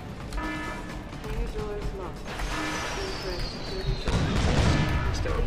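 Gunfire from a hostile robot in Deus Ex: Human Revolution, bursts of shots and impacts over ongoing combat noise with whirring electronic tones, loudest near the end, with speech mixed in.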